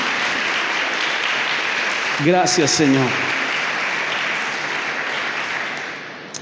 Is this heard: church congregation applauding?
yes